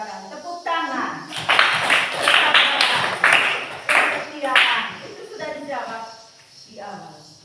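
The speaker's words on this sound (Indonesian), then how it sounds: "Tepuk tangan." Hands clapping in a Catholic religious education class, with bursts of applause between stretches of someone speaking, the clapping loud and close.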